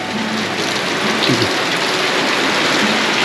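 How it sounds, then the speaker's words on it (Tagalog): Heavy rain pours steadily in a dense, hissing wash, loud and close, continuing without a break throughout, at an outdoor digging and cement work site. "grabe ang ulan"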